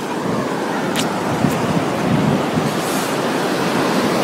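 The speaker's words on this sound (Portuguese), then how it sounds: "Ali o mar a bater nas rochas." Sea waves breaking against rocks along the coast at Porto Covo, a steady broad roar of surf mixed with wind buffeting the microphone, with no voices.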